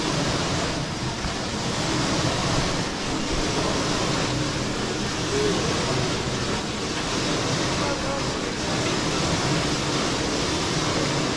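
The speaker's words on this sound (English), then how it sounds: "Yes, the machine is running. So they keep loading the ore there. This machine crushes and crushes and crushes." An ore crushing machine runs at a gold mine in Uganda, giving a loud, steady, broadband roar that holds unbroken for the whole stretch, with no clear pauses.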